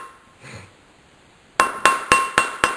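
A hammer taps a metal ring on a steel mandrel: a quiet scrape, then five sharp ringing metallic strikes in a steady rhythm, each with a short bright decay, close and loud.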